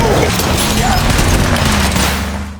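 Gunfight in a film between a man and a group of robbers: a dense, continuous fusillade of rapid gunfire with booming low end, loud and sustained throughout the whole stretch.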